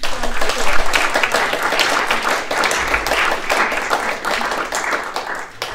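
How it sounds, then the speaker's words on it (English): A conference audience applauds continuously, a dense wash of many hands clapping at a steady, fairly loud level across the whole clip, with no voices standing out. "So I think we should give Philip a huge round of"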